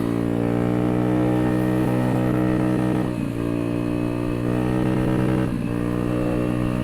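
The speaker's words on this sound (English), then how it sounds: "I think that's the rev limiter I'm hitting somehow really quick." A Honda Metropolitan scooter engine revs hard and repeatedly hits the rev limiter, making a loud buzzing drone with rapid stuttering cutouts around the peaks, heard close up with no talk.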